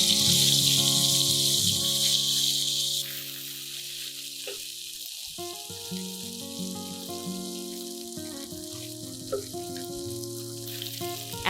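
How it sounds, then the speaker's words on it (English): Chili stir-frying in hot oil for uleg-style tempeh with ginger, a steady loud sizzle and crackle throughout, with occasional clinks of a utensil against the pan and running water tones in the background; no talking. "Heat the oil. Stir-fry the chili until fragrant."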